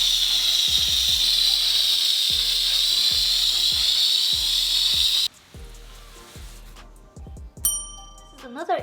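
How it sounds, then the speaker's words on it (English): A Bissell Steam Shot steam cleaner sprays tile grout with a loud, steady hiss for several seconds, then cuts off, followed by quieter clicks and a brief metallic ding. "I'm going to hit it right now with the steam shot."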